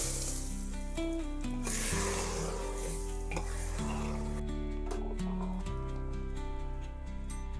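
Hot spice tempering poured into a pan of borboti kolai (yard-long beans with lentils), a steady sizzle and stirring scrape beneath a constant low hum.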